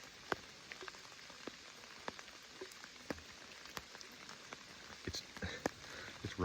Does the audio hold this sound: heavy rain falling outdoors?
yes